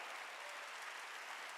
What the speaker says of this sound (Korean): 두 손이가 믿음이 있어야 헌금하는 걸 믿으면 박수 치라는 거야